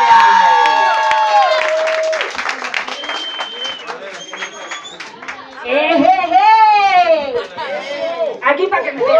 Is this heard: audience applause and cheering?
yes